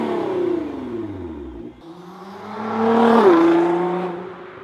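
A Nissan GTR fitted with an Armytrix exhaust revs, its engine note rising and falling in pitch, dipping briefly before climbing to a louder peak and then easing off, with no talking.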